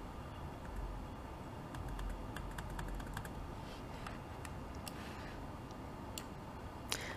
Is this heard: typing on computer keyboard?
yes